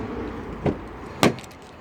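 Rear door of a 2013 Chevrolet Equinox 1LT SUV, two short clunks of the latch and door mechanism about half a second apart, close and fairly loud over quiet background.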